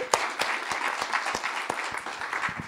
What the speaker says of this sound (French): Merci beaucoup, Franck, on l'applaudit.